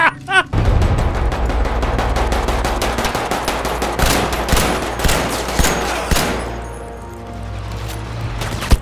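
Rapid automatic weapons fire from a Battlefield 5 firefight, dense repeated bursts of gunshots that run almost continuously after a short pause, loud and close, with a lull near the end before a final shot.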